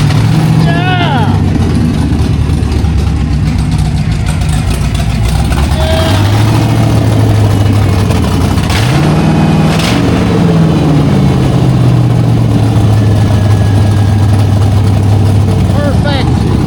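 A repaired engine runs and idles loudly and steadily up close, its low drone shifting pitch as it revs slightly, with people talking excitedly over it.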